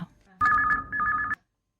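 A telephone rings for an incoming call on a Chhattisgarhi-language phone-in radio song show, two loud bursts of electronic trilling ringing back to back after a brief voice at the start, then silence.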